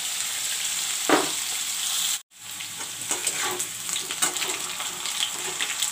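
Potatoes frying in mustard oil, a loud steady sizzle and hiss with a brief dropout, then occasional stirring clatter over the continuous crackle.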